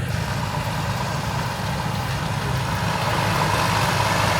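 A tractor engine rumbles steadily nearby during the rice harvest in Phitsanulok, Thailand, a continuous low mechanical drone with no pauses and no talking.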